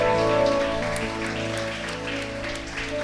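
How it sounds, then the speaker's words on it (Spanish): Church congregation applauding, a dense sustained patter of many hands clapping, loud at first and tapering slightly, mixed with lingering musical tones. "Dale un fuerte aplauso al Señor."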